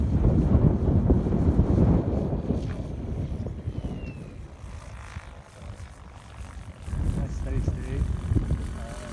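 Helicopter rotor blades during an autorotation practice in a breeze, a low, rumbling, buffeting whoosh close by that eases off midway and then swells again, with wind noise on the microphone and a voice talking over it.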